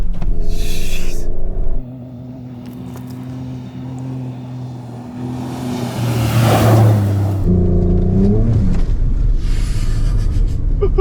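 A 2024 Ford Ranger Raptor drives on dirt trails, its engine rumbling loudly from inside the cab, dropping to a quieter drone, then surging with a roar before settling back to a strong steady rumble.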